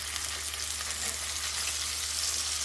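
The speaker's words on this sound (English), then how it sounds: "I'm letting them fry about 3 to 4 minutes on each side." Steaks fry in a pan with a constant, close, loud hiss and sizzle of hot fat that holds steady throughout without a break.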